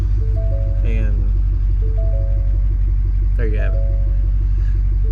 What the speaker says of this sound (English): This was a cold start, so if you heard that little bit of a shudder